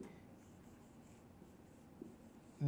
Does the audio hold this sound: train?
no